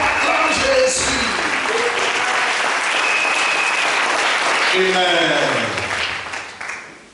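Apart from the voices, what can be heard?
church congregation applauding Jesus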